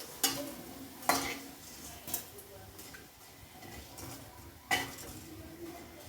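Fried fritters lifted out of hot oil in a pan, a few sharp metal clinks of a utensil against the pan over faint sizzling, with someone speaking softly between them.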